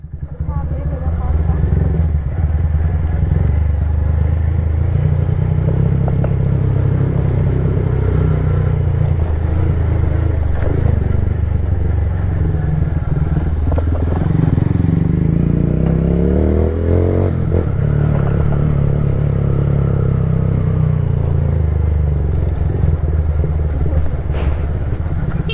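A Yamaha MT-03 motorcycle climbs a steep slope slowly, its engine a steady, loud low drone with occasional rattles, while people talk over it.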